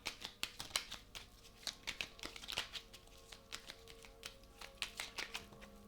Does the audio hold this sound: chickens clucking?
no